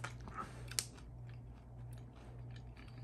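Crunchy beef ribeye chips are chewed close up, with a few crisp bites early and then quieter crunching under a steady low hum.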